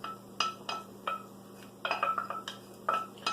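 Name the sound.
straining beurre blanc sauce through a strainer with a spoon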